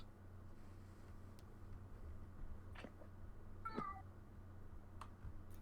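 A cat gives one faint, short meow at a distance over a steady low background hum, with a few soft clicks before and after.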